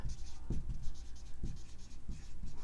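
A marker scratches across a board in quick strokes with a rhythmic squeak and scrape, written close up without talk.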